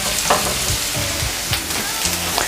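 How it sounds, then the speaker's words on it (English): Mince sizzles and crackles steadily in hot oil in a pan for a cheesy potato mince, with scraping stirring sounds breaking through at intervals. "Make sure your oil is hot so that you have that sizzling sound."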